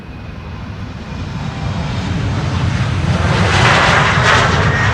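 An Embraer 190 jet airliner departs Schiphol in a broad, steady engine roar that swells gradually and grows louder toward the end, with no voices.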